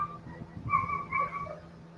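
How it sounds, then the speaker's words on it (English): A dog whimpering in distress somewhere nearby, thin high whines rising and falling in two short bursts, moderately faint over a low background hum with no talking. "It's a dog in distress."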